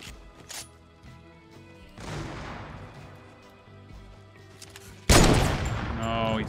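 Heavy sniper rifle blasts in a video game, with a sharp early crack, a booming shot near the middle and a loud close explosion-like report toward the end, separated by quieter game noise and speech.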